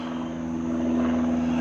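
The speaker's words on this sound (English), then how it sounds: "there's an airplane up in the sky" A propeller airplane drones steadily overhead outdoors, a loud, continuous engine hum with a strong tonal note, heard alone without any talking.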